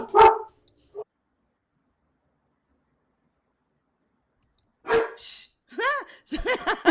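A puppy barks indoors in a few sharp, close yips and barks, separated by a long quiet stretch, with a brief voice near the start.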